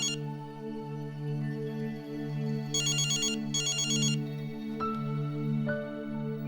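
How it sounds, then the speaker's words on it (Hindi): A telephone rings with an electronic ringtone in two clear repeated bursts over a steady low musical background, followed by a couple of sharp clicks. "रज्जो, ओ रज्जो, फोन में नहीं उठाती, पता नहीं कहाँ चली गई है।"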